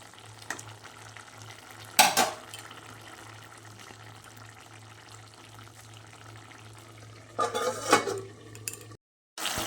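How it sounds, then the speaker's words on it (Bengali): A beetroot, carrot and potato curry is stirred in a pan on the gas: two short bursts of spatula scraping several seconds apart, with a faint, steady hum and quiet simmering in between. "মাঝে মাঝেই নেড়ে দিতে হবে সবজিটা যাতে ভালোভাবে সিদ্ধ হয়ে যায়"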